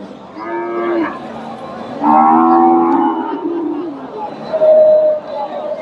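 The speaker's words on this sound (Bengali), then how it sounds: "দেখেন প্রচুর পরিমাণে হাড্ডিসার গাভি আছে দেশি ক্রস হাড্ডিসার গাভিগুলো বেশ আমদানি হয়" Cattle lowing at a crowded Bangladesh cow market where skinny local crossbred dairy cows are sold, with several loud moos one after another over a steady background of murmuring voices.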